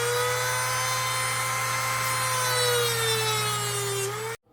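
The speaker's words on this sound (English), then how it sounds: "I'm just gonna take the nubbin off with the Dremel" A Dremel rotary tool grinds a nubbin off the bottom of an apple wood bowl, a loud close high-pitched whine with a slowly drifting pitch that cuts off abruptly near the end.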